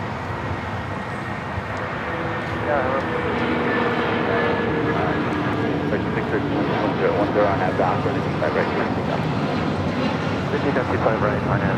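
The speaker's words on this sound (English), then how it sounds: "Next takeoff here on the south side. United Airlines flight 678 heading to Newark, 757 at 200." A United Airlines Boeing 757 taking off at LAX, a broad, steady jet engine roar that swells slightly and holds, with a voice talking over it.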